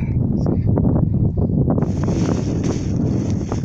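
Gusty wind on a cold, fogbound mountain summit buffets the microphone in loud, rough bursts, with a steady rushing layer rising partway through.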